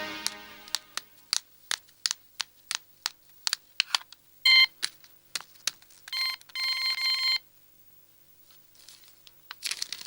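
An office telephone rings in repeated electronic bursts at a construction company, sharp and fairly close, mixed with crinkling clicks and no talk.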